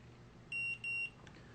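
Electronic door lock keypad gives two short, steady beeps in a row after its set button is held, fairly loud over a quiet room background.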